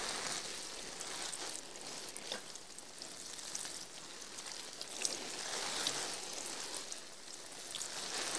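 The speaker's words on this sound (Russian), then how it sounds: "Польем нашу яблоню водой." Water pours steadily in a cartoon scene of an apple tree being watered, a soft continuous hiss and splash with no voices.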